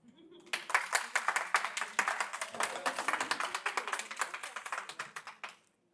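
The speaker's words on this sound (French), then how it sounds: "Vous pouvez vous applaudir" A room of networking-event attendees claps for about five seconds, a scattered patter that fills in fast, holds steady and then stops sharply.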